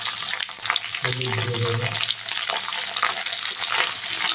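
Potatoes fry in hot oil in a kadai with a loud, dense sizzle and crackle throughout, stirred with scraping strokes, while a person speaks briefly over the cooking.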